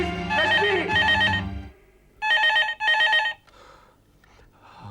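A telephone rings in a domestic scene: two double bursts of electronic trilling, loud and close, with a gap between them, followed by fainter fragments of sound.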